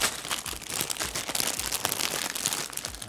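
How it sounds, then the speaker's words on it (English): Crisp crinkling of a plastic Lego parts bag, rapid irregular rustles and crackles handled up close, with no talking. "Ooh, crinkly."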